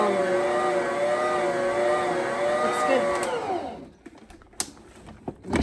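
A stand mixer kneads pizza dough with a steady, droning motor whir and a wavering harmonic whine. It stops abruptly near the end, leaving a few faint clicks and taps.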